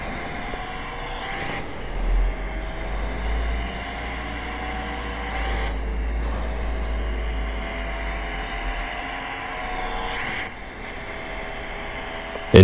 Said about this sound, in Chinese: MT-10 的声音哦，真正的十字曲轴声音。